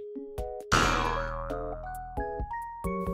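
Censor sound effect bleeping over a swear word, a short boing-like cartoon tone cutting in among brief synthetic tonal beeps, quiet and isolated with no speech around it.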